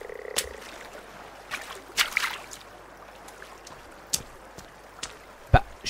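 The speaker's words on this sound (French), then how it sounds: "Alors les bruits de crapaud oui bien sûr." Toads croak in the survival game Sons Of The Forest, a few low, scattered calls and clicks rising over a steady outdoor ambience, with no talking.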